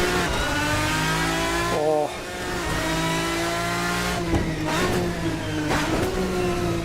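A race car engine in Assetto Corsa drones at high revs from the external view, rising and falling in pitch, shifting gears, while a voice gives a short exclamation.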